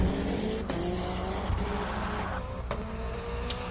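A Subaru Impreza WRX STI race car at the Simola Hillclimb roars past, engine loud and changing pitch as it moves through gears, with brief tire noise before fading slightly.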